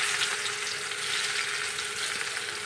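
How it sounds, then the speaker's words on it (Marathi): Onion sizzles and fries steadily in hot oil in a kadhai, a continuous bright crackling hiss with no talking over it. "सर्वप्रथम कांदा घालून घेणार आहोत।"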